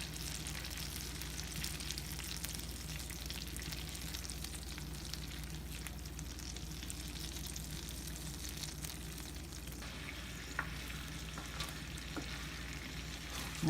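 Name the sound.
butter searing in a pan for garlic shrimp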